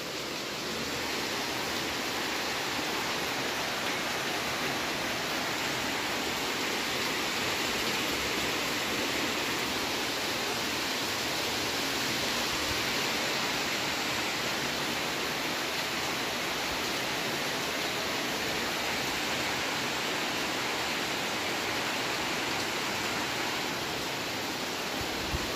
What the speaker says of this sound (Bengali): দেখো কি বৃষ্টি, কি বৃষ্টি, বারান্দায় ছাট আসছে।